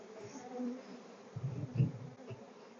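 Honey bees buzz faintly around an opened hive during a messy cross-build hive service, a soft irregular hum with a few brief louder swells as they fly near.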